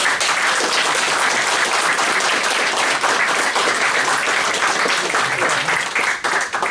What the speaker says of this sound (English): So if I can get a round of applause, and we'll hand over.